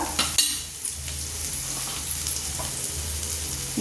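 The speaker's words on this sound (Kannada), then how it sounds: "ಹೀರೆಕಾಯಿ ಹಾಕಿ ಒಂದ್ಸಲ ಕೈ ಆಡ್ಬಿಡ್ತೀನಿ" Ridge gourd and onion sizzle in a hot pan while a spoon scrapes and stirs them, with steady frying hiss and a few clinks of utensil on metal.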